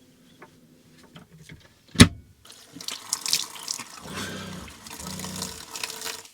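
Tap water runs into a small sink inside a camper van as someone washes their face, with a sharp knock near the start followed by a steady splashing flow that swells and wavers close by.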